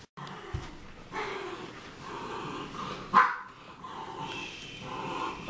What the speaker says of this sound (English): It's okay, Ben, if they're barking.